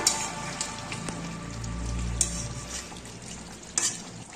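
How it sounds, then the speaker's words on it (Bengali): Fried potatoes and eggs are stirred into a chicken curry masala for Dak Bungalow chicken, with faint scraping and a low simmering bubble under a few sharp clinks of the spoon against the pot. "এবারে দিয়ে দিচ্ছি ভেজে রাখা আলু আর ডিম মশলার সাথে মিশিয়ে নিচ্ছি"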